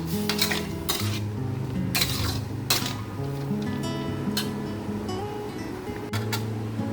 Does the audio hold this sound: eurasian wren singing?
no